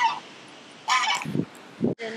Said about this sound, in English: the muskrat ducks and the Chinese geese, they go all around the farm all day